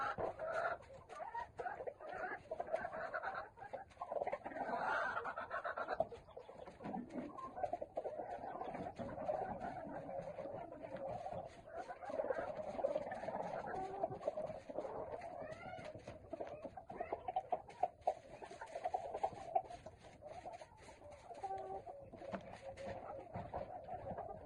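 Chickens in a poultry house with fresh sand bedding cluck and murmur continuously at moderate distance, a busy, overlapping flock chatter with occasional sharper calls and faint rustling throughout.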